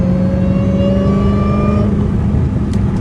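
An 800 hp Dodge Hellcat Redeye engine revs loudly and close, a strong rising whine and rumble that holds and then eases off, with no talk over it.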